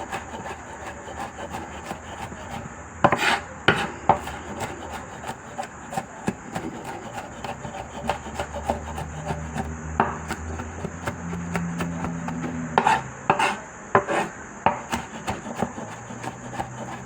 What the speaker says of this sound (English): So I'm just chopping the garlic down